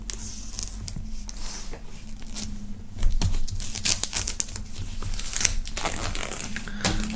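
Crinkling and tearing of the plastic wrap sealing a Desperate Housewives DVD box set, opened at the welded seam: close, steady rustling with sharper rips, louder in the second half.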